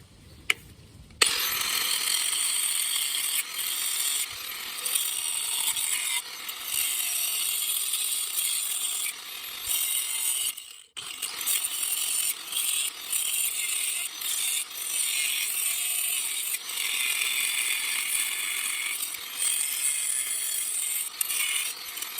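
A power tool with a cutoff wheel cuts metal outdoors during work on a 1966 Dodge Dart GT barn find. A loud, steady, harsh grinding runs nearly nonstop, with one brief break midway.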